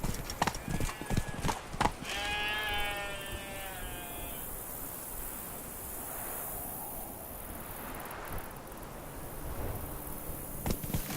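Horse hooves clip-clop in The Witcher 3 video game, heard as a run of quick rhythmic hoofbeats at the start, then a softer steady ride under ambient game sound, with bleating animals and brief voices.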